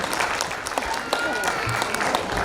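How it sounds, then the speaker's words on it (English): An audience at a raga and taal cultural festival applauds with steady, dense clapping, fairly close. "Can we please have a thunderous round of applause"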